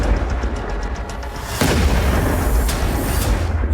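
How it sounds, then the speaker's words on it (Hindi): Missile strike explosion during an air raid on Tehran, a loud rumbling blast that erupts about halfway through over a steady roar of low booming noise, with no voices. "मिसाइल आकर गिरती है और तेज धमाका होता है।"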